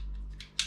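The small scissors of a Swiss card multitool snip twice in quick succession, close and crisp, against a low steady hum.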